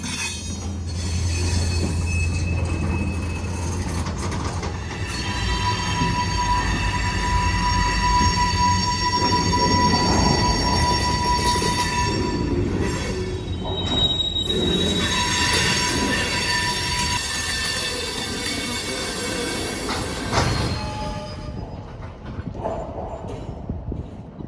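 A freight train with a boxcar and gondolas rolls past close by on an industrial line in Miami, its wheels letting out long, high metallic squeals over a low rumble and clanking of cars.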